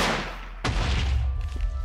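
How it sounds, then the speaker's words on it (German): A sudden loud blast from an explosion in Minecraft cuts through steady rumbling, followed by a sustained low roar and scattered crackle. "Okay, er ist explodiert."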